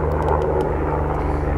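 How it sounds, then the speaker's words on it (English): A helicopter passes overhead, a steady loud rotor and engine drone that fills the whole moment with no gaps or voices. "Let's let this chopper get on by."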